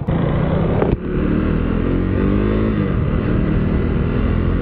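A 2025 Husqvarna Vitpilen 401 motorcycle engine running close by, a loud steady harmonic drone with a brief blip near the start, no talk over it.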